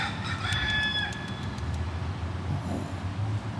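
Chicken outdoors in downtown Miami, crowing loudly near the start and then clucking, over steady city traffic noise.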